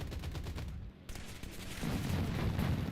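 Cannon fire in War Thunder rattles off in rapid full-auto bursts, loud and close, dropping out briefly before a denser, heavier stretch of shots.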